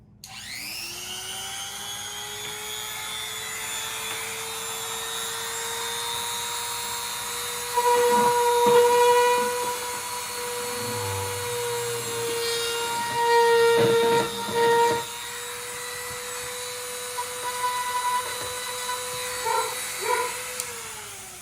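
A power tool cutting holes in a lithium battery box, a steady high whine that dips and strains in a few bursts as the cutter bites into the material, near and loud, no talking.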